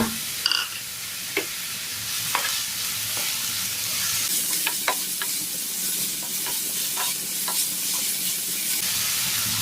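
Sliced onions with salt sauté in a pan for a street-style mushroom masala, crackling and sizzling steadily while a spoon stirs and scrapes in irregular knocks.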